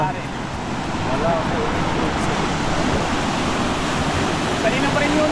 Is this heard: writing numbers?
no